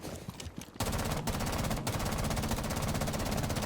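Automatic gunfire in the tactical shooter game Rainbow Six Siege: after a short quiet lead-in, a loud, sustained, tightly spaced burst of shots rattles on continuously with two brief breaks, close and dominant.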